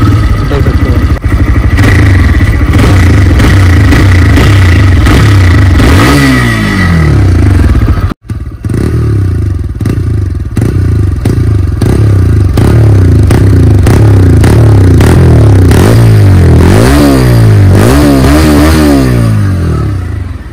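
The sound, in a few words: TVS Raider 125cc motorcycle starting, exhaust note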